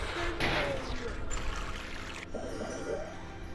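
Water draining in the Harry Potter and the Chamber of Secrets video game, a close pouring and gurgling rush with splashy bursts and a trickling tail.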